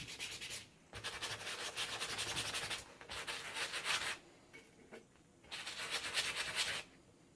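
Stain remover being worked by hand into stained clothing, soft close scrubbing and rubbing in several bursts of a second or two, separated by short pauses, with no talking.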